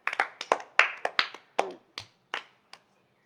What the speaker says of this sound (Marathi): व्हेरी गुड, टाळ्या वाजवा।